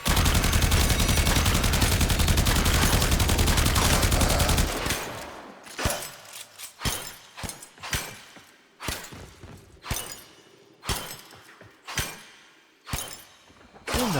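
Gara's number 2 ability is cast in a video game, a dense continuous roar of shattering bursts that breaks into a run of sharp, separated cracks and impacts at a steady pace, with no talk over it.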